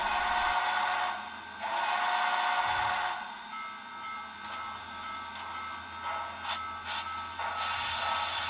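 Modern heavy steam locomotive sounds from a Tsunami2 model train decoder: loud bursts of hissing steam and broadband chuff noise, easing to a quieter rumbling background with a few brief high squeals and a final louder hiss.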